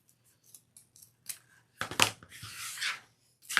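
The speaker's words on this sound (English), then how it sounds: "I just fold it in half and cut up towards the wired edge" Scissors cut wired-edge ribbon for a ruffle wreath: a few soft snips, then a louder crunching cut and a long sliding slice, close up with no talking.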